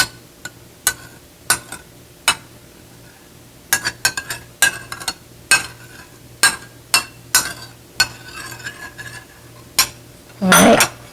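A spoon clinks and scrapes against a bowl while steamed bun filling of egg, pork and Chinese sausage is mixed: about a dozen sharp, separate taps at an uneven pace, ending in a louder burst of scraping.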